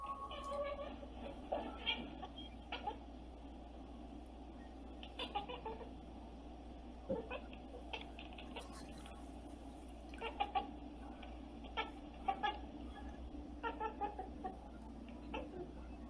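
Faint, rapid clicking chatter from a cat while hunting, a series of short, quiet bursts spread across the recording over a low steady background hum.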